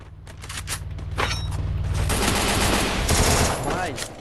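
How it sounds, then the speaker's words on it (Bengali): Video game gunfire rattles in fast automatic bursts with sharp single cracks, loud and dense across the whole stretch, with no talk over it. "ভাই ওইখান থেকে আমারে ফায়ার দিল।"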